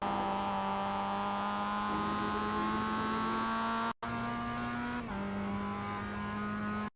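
A Mazda MX-5 race car in iRacing at Okayama holds a steady high engine drone at full throttle, pitch climbing slowly, with a brief break as it shifts gears before pulling on again.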